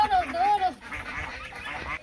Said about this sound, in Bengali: এই যে আমার রাজহাঁস